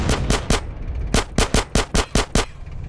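Gunfire in GTA: a loud burst of three quick shots, a short pause, then a faster run of about seven sharp reports in uneven rhythm, close and alone.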